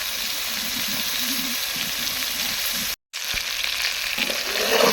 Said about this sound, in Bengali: মুরগির গোস্ত আমি এভাবে ভেজে নেব